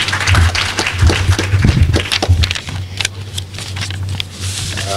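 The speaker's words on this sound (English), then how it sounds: "Big hand of applause, ladies and gentlemen" Applause for the guest of honor at a health ministry launch event, a dense burst of clapping from an audience, loud at first and thinning toward the end over a steady low hum.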